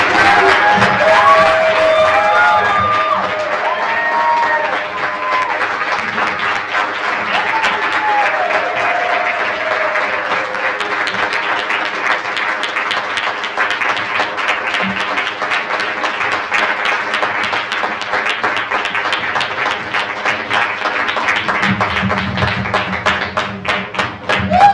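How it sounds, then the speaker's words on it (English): Audience at a poetry open-mic anniversary night applauds in a sustained, dense burst of clapping with scattered whoops, loud and continuous throughout, gradually thinning slightly toward the end. "Give him another round of applause."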